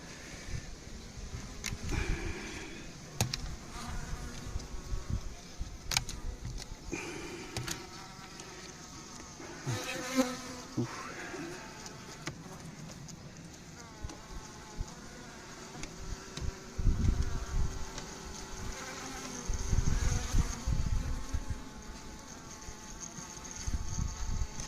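Honey bees at an apiary hive in Santeny licking honey, a continuous faint buzzing drone with individual bees passing close, plus occasional clicks and handling bumps.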